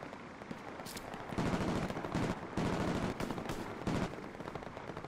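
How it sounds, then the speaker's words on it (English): Machine gun fire in the World War II shooter Hell Let Loose, several sustained automatic bursts, loud and close, separated by short pauses with distant battlefield noise between them. "Alright, I'm switching to machine gun."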